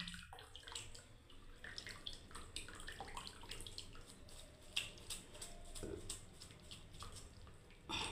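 Whey water drains from freshly strained chhena made from 500 grams of milk for rosogolla, a soft, faint trickle and splash with small drips and light handling clatter in a home kitchen.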